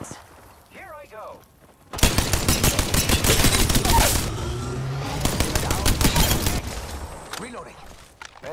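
A long burst of rapid automatic gunfire in a shooter game runs for several seconds, loud and close, with a quieter stretch of talking before and after it.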